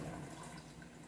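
Mercedes-Benz coolant poured into the reservoir of a 2011 Mercedes GLK 350 X204, a steady liquid glug and trickle running close and continuous throughout without talk.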